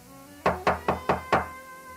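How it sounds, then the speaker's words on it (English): Five sharp knocks on a door, loud and close, evenly spaced in a quick steady rhythm, then silence. "Did you knock on my door?"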